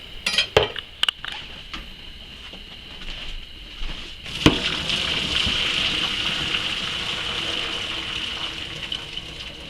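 Boiled potatoes being drained from a pot, a steady rushing pour of water after a few sharp clanks of metal, close and loud, with no talk.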